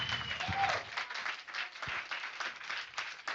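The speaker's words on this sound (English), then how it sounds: "We want to give a big round of applause to our teachers." A crowd at a coding bootcamp demo day applauds its teachers, a moderate, fairly quiet burst of clapping that continues steadily, with a few cheers mixed in.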